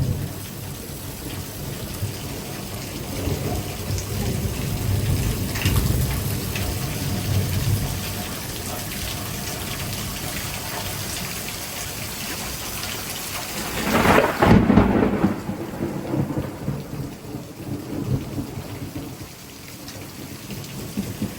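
Heavy thunderstorm with wind-driven rain pouring steadily, broken by a loud, close thunderclap that rumbles on for several seconds before easing back into the rain and gusting wind.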